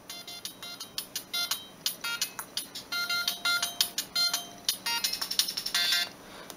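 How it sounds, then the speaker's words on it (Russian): A Siemens M65 mobile phone on its first firmware plays its default ringtone: a quick, bouncy melody of sharp electronic beeps in short rhythmic bursts, clear and close with nothing else heard. "На первой прошивке этого телефона, кстати, когда вот у меня было, там для стандартной была вот такая мелодия."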